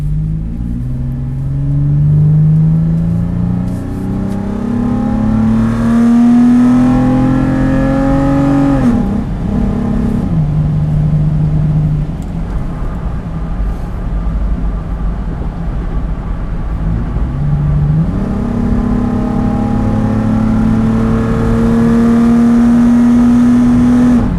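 A Toyota 4Runner fitted with a TRD cold air intake accelerates hard on the road, engine climbing loudly through the gears with two shift dips, heard from inside the vehicle.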